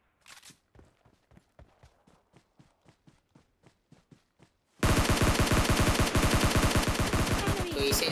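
Gunfire in PUBG Mobile Lite, an S12 shotgun among the weapons: first a run of faint, evenly spaced shots, then a sudden loud, sustained barrage of dense rapid fire.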